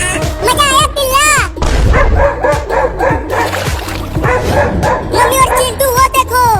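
Cartoon dogs chase a cat with loud, repeated barks and yips that come in quick bursts, mixed with voices and busy background sound.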